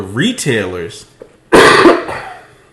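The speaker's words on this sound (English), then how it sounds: "It was a cough." A single loud cough bursts out close to the mic after a short spoken word, followed by a rougher, throat-clearing tail during a podcast conversation.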